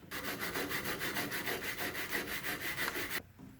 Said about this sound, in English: clean them off if you have to, like with a wire brush